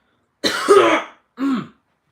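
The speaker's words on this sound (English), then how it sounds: "I'm gonna try not to cough here." Two close, raspy coughs, the first longer and rougher, the second shorter, with a brief pause between them.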